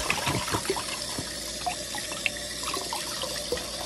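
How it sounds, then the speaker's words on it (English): A kitchen tap runs steadily while sprouting seeds are rinsed, a continuous splashing hiss with small clinks and drips scattered through it. "let me turn the water off"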